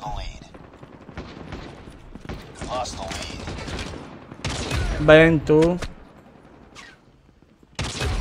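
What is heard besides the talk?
gunfire in video game Call of Duty Mobile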